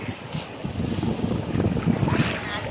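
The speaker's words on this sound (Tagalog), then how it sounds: "Lakas ng alon guys. Uy, umahampas ang tubig" Rough surf crashing against the shore at a Boracay beach, a steady loud wash of waves with wind buffeting the microphone and a faint voice underneath.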